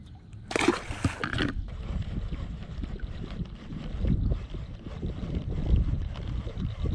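Splashing as a caught fish is let go back into the water from a boat, with a short bright burst of splash near the start, then sloshing water and wind rumble that carry on underneath.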